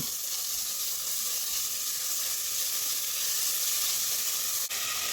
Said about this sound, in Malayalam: 2 സവാള കട്ട് ചെയ്തതാണ്, അത് ഇട്ട് കൊടുക്കുന്നുണ്ട്. ഇളക്കി കൊടുക്കാം.